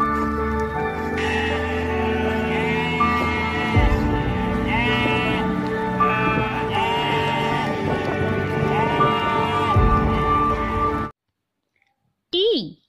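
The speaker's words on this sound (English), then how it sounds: "S for sheep." Sheep bleating loudly over busy background music, the bleats wavering and repeated; the music cuts out near the end, leaving one brief bleat alone.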